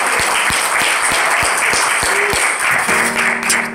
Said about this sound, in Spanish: Así que denle otro fuerte aplauso al Señor